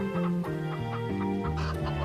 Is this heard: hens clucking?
yes